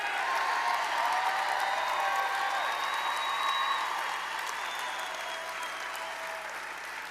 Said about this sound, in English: they can applaud you very briefly